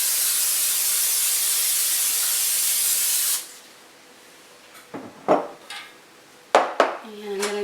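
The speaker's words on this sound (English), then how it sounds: "So we're going to spray our pan." Cooking spray hisses onto a pan for baked parmesan chicken, a continuous loud spray lasting several seconds. It is followed by quieter clinks and clatter of pans and utensils.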